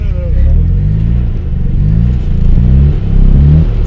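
Car driving and drifting on an icy track at Yachiho Lake in Nagano, a close engine rumbling and revving in repeated rising surges, with a voice talking over it.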